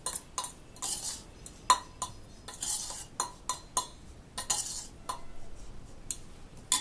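A spoon stirs sattu flour with black salt and roasted ground cumin in a bowl while making sattu lassi, producing rhythmic clinks and scrapes of metal against the vessel, close and fairly quiet, with no voices.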